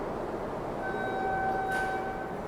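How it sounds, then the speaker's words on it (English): Six-car subway train passing by, a steady rumbling rush with faint tonal squeals rising partway through, heard from a moderate distance. "Here's the subway cars. 6 cars."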